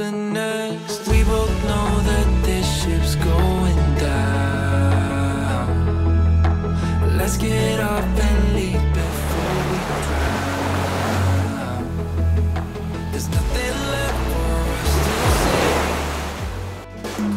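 Sea waves wash steadily onto an Aruba beach, a loud continuous roar of surf with rising, broad swells and a low rumble underneath, no voices.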